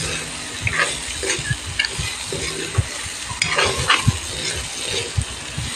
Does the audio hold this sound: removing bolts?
no